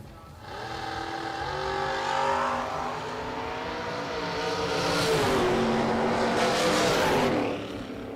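1968 Chevrolet Camaro race car with a rear wing, its engine droning and revving steadily at a distance, rising and falling in pitch as it runs, with no voices.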